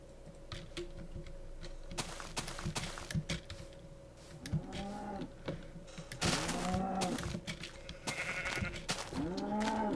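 Sheep bleats from Minecraft, several short wavering calls repeating from about four seconds onward, set over game ambience with clicks like keyboard typing and faint background sounds.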